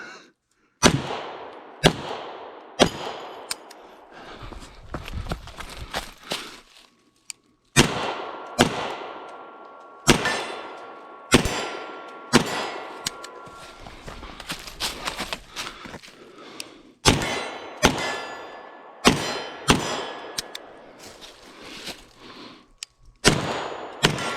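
A handgun fired during concealed carry shooting practice: loud, close shots in quick strings, with short pauses between volleys, steady through the whole stretch.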